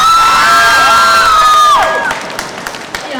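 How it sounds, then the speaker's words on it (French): Crowd cheering and whooping at a cosplay contest, loud and close, with sustained whistles and shouts. The din gradually thins into scattered calls and clapping. "Un tonnerre d'applaudissements pour la régie."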